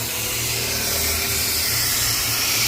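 A steady, loud hiss of refrigerant gas escaping from a leak in a double-door refrigerator runs continuously, broadband and unbroken, over a low mechanical hum.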